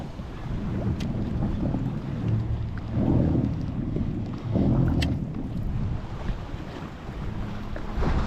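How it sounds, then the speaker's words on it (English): Wind and choppy waves on the water around a fishing kayak, a steady rushing roar with louder swells as waves slap near the hull, close and continuous, with no talking. "Alright, these waves are getting crazy."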